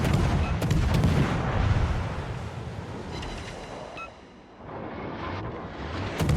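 Naval gunfire from warships in a destroyer battle game thuds and rumbles as heavy booming salvos, loud at first, then dropping away midway before swelling again.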